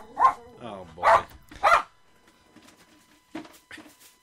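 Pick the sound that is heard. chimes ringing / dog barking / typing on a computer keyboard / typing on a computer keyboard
dog barking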